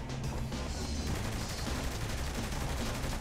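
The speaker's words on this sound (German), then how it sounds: "Ich schieße noch wie Bekloppte." Rapid gunfire in the video game Saints Row The Third, dense repeated shots that keep up a steady rattling barrage throughout, loud and continuous.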